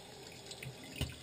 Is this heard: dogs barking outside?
no